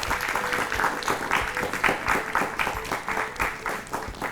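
Loud, sustained applause from a crowd, dense clapping continuing steadily throughout with no voices over it.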